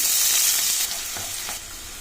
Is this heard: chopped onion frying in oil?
yes